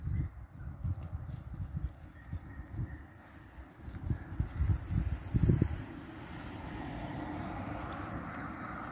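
A stocky, very calm gateado horse walks off, its hooves thudding in an irregular clip-clop for several seconds before the steps fade into a soft, steady background noise.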